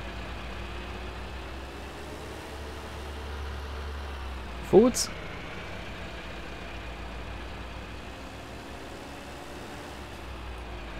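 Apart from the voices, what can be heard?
Massey Ferguson 390 tractor engine, video game mod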